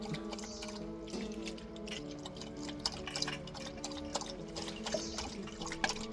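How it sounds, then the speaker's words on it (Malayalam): A pet laps up water from a bowl, soft wet lapping sounds repeating steadily, close by and quiet over faint room noise, with no talking. "അടിച്ചുവിട്ട് വെള്ളം കുടിക്കുന്നുണ്ട്"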